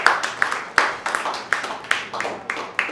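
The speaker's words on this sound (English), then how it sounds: "Please give him a round of applause." Audience clapping for a newly named board treasurer at a December community roast event, with broadband hand claps repeating in uneven bursts and no talk over them.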